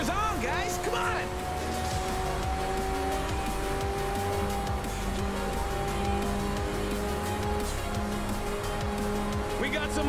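A supercar racing in the video game Forza Horizon 4, its engine revving and whining steadily with tire squeal and road noise throughout, loud and continuous.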